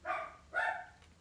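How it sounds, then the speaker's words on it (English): Dogs barking in two loud bursts close by, with a short sharp yelp at the end, no talk over them. "Okay, I'm sorry about the dogs."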